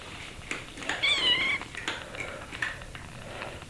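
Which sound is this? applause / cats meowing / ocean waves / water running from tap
cats meowing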